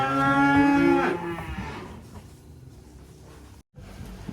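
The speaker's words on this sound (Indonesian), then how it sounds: "Nih penurunan, masih ada 2 ekor sapi jumbo dari kandang pedalaman." Jumbo cattle being unloaded from a livestock truck, with one loud, close, drawn-out moo at the start that fades into quieter shuffling and rattling of the truck.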